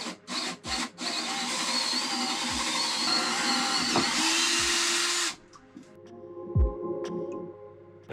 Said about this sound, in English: So I'm going to drill a small hole through from the inside out